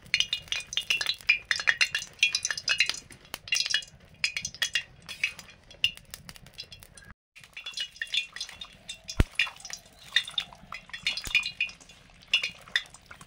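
Boiled rice for chicken biryani is drained in a kitchen, with light clinks of a metal pot and lid and faint trickling and dripping of water, close and irregular throughout.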